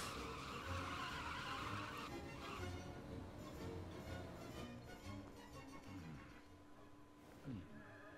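Car driving and skidding in the Lego Dimensions video game, with a continuous engine drone and tire squeal across the stretch, layered with dense game sound effects and music.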